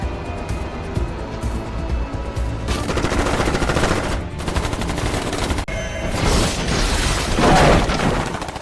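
Film gunfire at a blockaded border: bursts of rapid automatic shots and single cracks, loud and close, with a hit or shatter partway through.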